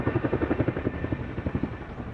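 Japanese Self-Defense Force helicopters deployed against a wildfire, heard as a loud, close, steady rotor chop with rapid rhythmic blade thumps throughout.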